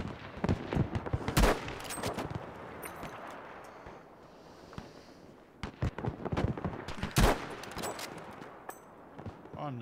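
Rifle and automatic gunfire crack in the multiplayer shooter Battlefield V, with sharp close shots and rattling bursts in two clusters separated by a quieter lull.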